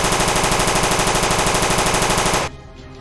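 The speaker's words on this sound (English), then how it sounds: "Guns blazing." Rapid, loud machine gun fire from a WWI Nieuport 21 diving on a Fokker in a tabletop air combat game, a dense continuous rattle for over two seconds that cuts off abruptly, leaving a low residual rumble.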